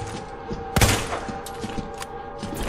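Gunfire in Resident Evil 2 Remake's No Way Out DLC on PS4: one loud, sharp shot leads a scatter of quieter pops and impacts over a continuous game soundscape, with no voices.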